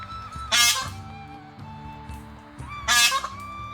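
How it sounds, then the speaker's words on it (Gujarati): Peacocks at a farm park give two loud, piercing honking calls spaced a few seconds apart, near and prominent over a background of music, with no talking. "અહીંયા બોલે હે મોરલા"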